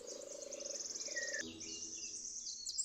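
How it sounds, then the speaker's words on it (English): Birds chirp in a forest, quick repeated high tweets and a short rising call, fairly faint and close with a quiet background. "Birds."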